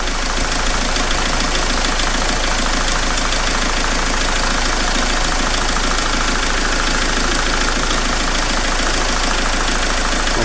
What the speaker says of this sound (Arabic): شفت حس الموتور كيف تغير، يعني حس الموتور تم بدأ يتغير